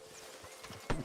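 A horse's hooves clop softly in Red Dead Redemption 2, a few faint steps ending in a louder thud near the end of a brief moment.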